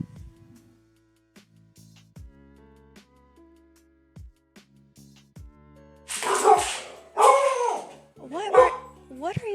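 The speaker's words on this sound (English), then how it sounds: "What are you barking at?" A dog barks at a cardboard box indoors, first with soft scattered yips and whines, then a run of loud, sharp close barks, while someone talks quietly at the start.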